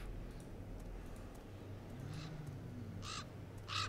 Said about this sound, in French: il y a des corbeaux déjà.